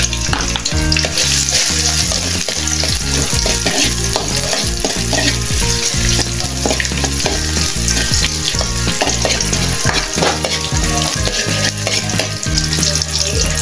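Garlic and onion fry loudly in hot oil in a pan, a dense, constant sizzle and crackle with rhythmic stirring scrapes throughout, close and alone without voices.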